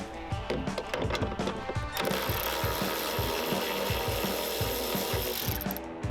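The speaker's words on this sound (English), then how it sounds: "now we can take off the 10mm bolt that holds the upper portion of the trim" A ratchet clicks steadily in fast repeated bursts as a 10mm bolt holding the upper trim on a Toyota Tacoma is loosened, close and fairly loud, with mechanical clatter and no voices.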